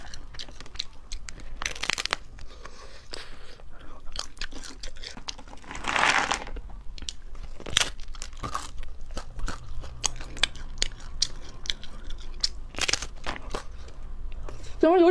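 Someone bites and chews hard, frozen sweet food up close, sharp crunches and cracks coming in bursts between quieter chewing and softer crinkly sounds, with no talk.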